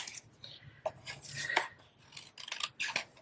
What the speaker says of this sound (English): Now I'm just going to fussy cut these out.